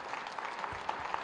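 Audience applauding at a political gathering, a short burst of steady clapping from many hands, moderately quiet and fairly distant.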